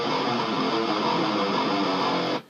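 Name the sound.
electric guitar tone recorded through Axe-Fx effects unit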